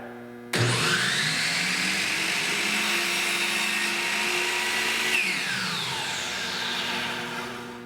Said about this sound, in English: you hold this chop saw down until the blade stops, and then you pull it back up